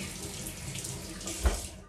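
A kitchen tap runs steadily while hands are rinsed under it during shrimp preparation, a close, even hiss of water with a brief splash near the end.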